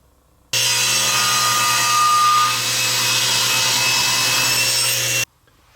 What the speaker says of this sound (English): we're going to have to cut some ABS plastic